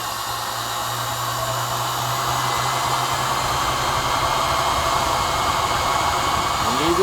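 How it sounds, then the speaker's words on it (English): An electric honey extractor spins honeycomb frames to sling out the honey, producing a steady, close whirring drone that holds constant and swells slightly louder over several seconds. "when you stick this frame in the extractor, the cells will be open and the honey will come right out"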